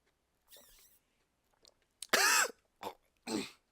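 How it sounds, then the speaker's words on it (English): A person coughs and clears their throat while eating a KitKat candy bar, wrapper included, giving a few short, close bursts of harsh throaty coughing with brief pauses, after a softer mouth noise. "And then I coughed, and it came back up."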